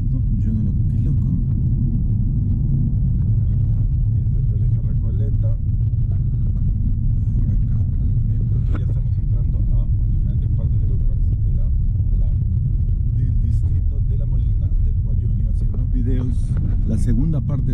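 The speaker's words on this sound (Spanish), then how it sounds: "Acá siempre hay tráfico" Steady low rumble of road traffic on Avenida Javier Prado in Lima, a dense continuous drone of passing vehicles heard nearby, with a few brief higher clicks and some faint talk mixed in.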